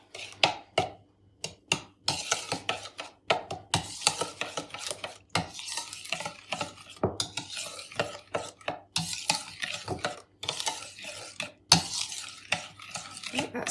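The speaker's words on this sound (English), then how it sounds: "Give it a mix." Fruitcake batter being mixed with flour in a bowl, heard close up as repeated rhythmic scraping and thudding strokes of a spoon against the bowl, with short pauses between bursts.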